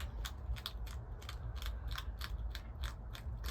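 A hedgehog crunching food inside a quiet greenhouse at night, a rapid steady series of small crisp crunches over a low background rumble.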